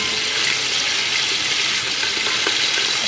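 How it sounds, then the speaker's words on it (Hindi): Chicken frying in oil with cloves and cardamom, a steady close hissing sizzle without pause. "चिकन को हम थोड़ा सा इसका कलर चेंज होने तक फ्राई करते हैं"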